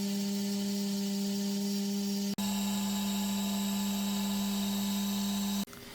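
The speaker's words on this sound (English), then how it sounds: "this machine cuts through aluminum like butter" A CNC machine cutting aluminum parts gives a steady, loud mechanical whine and hum with strong tonal lines. It runs continuously, breaks briefly near the midpoint and cuts out just before the end. No one speaks.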